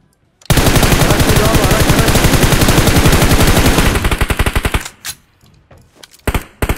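Automatic gunfire in PUBG Mobile rattles in a long, loud, rapid string of evenly spaced shots, then breaks into shorter bursts and isolated single shots.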